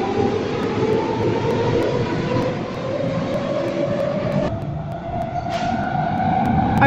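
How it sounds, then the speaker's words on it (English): A video-game Athens Metro Line 3 train gives a continuous rumbling drone with a steady rising-and-falling engine whine, moderately loud and close, with a brief tonal shift near the end; no talking. "I really like the train sounds, they sound very realistic."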